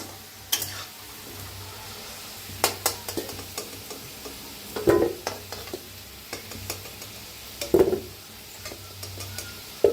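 Potatoes frying in oil in a pan, a soft constant sizzle broken by several clattering stirs and scrapes spaced a few seconds apart, close by with no talking.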